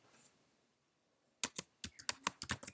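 Keys on a computer keyboard are struck in a quick burst of crisp clicks after a near-silent pause, about a dozen sharp taps close to the mic, with no talking.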